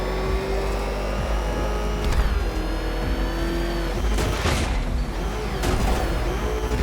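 A car engine races in the video game Batman: Arkham Knight, revving loudly and continuously with tire squeals and fast passing surges.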